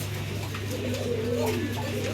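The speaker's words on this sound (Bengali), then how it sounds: "খুব সুন্দর দেখার মতো একজোড়া কবুতর" Low, rolling coos from a breeding pair of Copper Black Angel pigeons at a pigeon farm, close and soft, sitting over a constant low hum.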